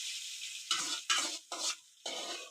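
Hot oil is stirred into a yogurt chutney, making four short bursts of sizzling and scraping, each separated by brief quiet gaps.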